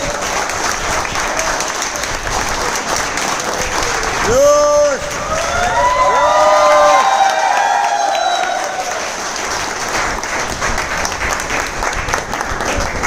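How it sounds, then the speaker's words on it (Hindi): A crowd at a Mumbai head-office event claps hard and steadily throughout, with some cheering. A sustained whistle or tonal call rises briefly in the middle, and a voice is heard over the applause. "जोरदार तालियां सुनील जोशी सर के लिए"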